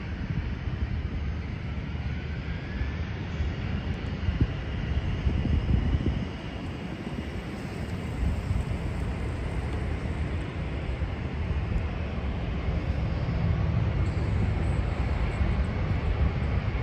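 An American Airlines jet takes off in San Diego, a continuous broad roar held steady at a distance, with wind buffeting the microphone and no talk.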